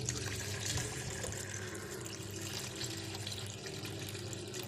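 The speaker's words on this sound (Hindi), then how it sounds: "अब हम बस इसमें अपनी ज़रूरत के हिसाब से पानी ऐड करेंगे।" Water runs steadily into a container of homemade butter mixture with a continuous splashing, filling sound, close by and fairly quiet, with no voices.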